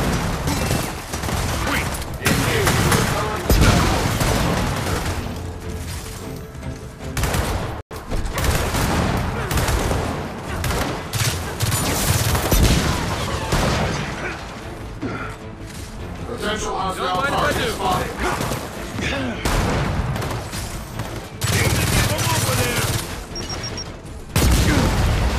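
Gunfire in the video game Gears of War 4 campaign: heavy bursts of rifle and machine-gun fire with booms and crashes, loud and close, repeating throughout, with characters talking between the shots.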